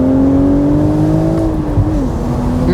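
A BMW Z4 M40i with a manual gearbox drives along while its engine hums loudly and steadily in the cabin, its tone rising and then dropping slightly as it revs.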